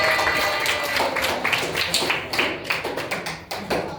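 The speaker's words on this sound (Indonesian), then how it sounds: "Beri tepuk tangan semuanya." A classroom of students claps hands together at a microteaching session, producing a brisk, close burst of mixed taps that fades toward the end, with no speech over it.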